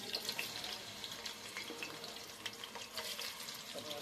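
Four chopped onions go into boiling oil for chicken biryani, giving a soft, continuous sizzle and crackle that stays faint and even throughout.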